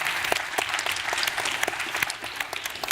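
An audience at an elementary school spelling bee applauds: dense, steady clapping from a crowd that continues throughout at moderate loudness.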